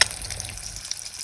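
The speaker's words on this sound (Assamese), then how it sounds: "মুৰ্গীৰ কণী এটা ভাজিব খুজিছোঁ ইয়াতে" A chicken egg frying in a pan gives a soft, steady sizzle with faint crackles, heard close and alone at low level.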